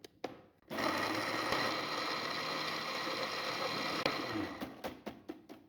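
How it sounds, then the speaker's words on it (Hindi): An electric mixer-grinder runs steadily on leftover chapati pieces in its jar, a loud continuous whirring motor that starts abruptly after a brief click, holds for several seconds, then stops with a few short bursts. "ग्राइंड करने के लिए चपाती के टुकड़ों को ग्राइंडर जार में भर लूंगी और अब इनको ग्राइंड करने की तैयारी करते हैं"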